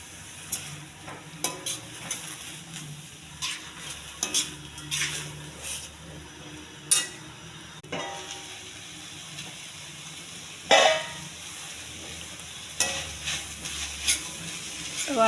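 Broad bean curry seasoned with chili powder being stirred in a pan, a soft sizzle underneath repeated scraping and clacking strokes of a spoon against the pan, irregular and close, with no talking.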